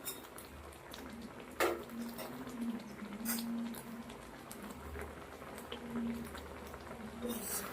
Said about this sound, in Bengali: মশলার সঙ্গে সব কিছু দিয়ে আমটা একবার ফুটিয়ে নেবো খুব ভালো করে